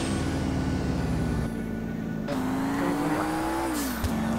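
Car engine in GTA V droning continuously as the vehicle drives, with pitch rising and falling through gear changes and a brief tire squeal near the end.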